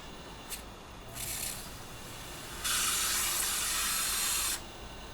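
An aerosol spray can sprays lampshades in a home DIY job, giving two bursts of steady hiss, a shorter one and then a longer, louder one of about two seconds, with no talking.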